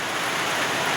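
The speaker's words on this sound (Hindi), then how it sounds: "ये इतनी तेज़ बारिश आ गई, आवाज़ सुनाई दे रही होगी आपको ये।" Heavy rain pours down in a steady, dense hiss, close and loud, with no voices.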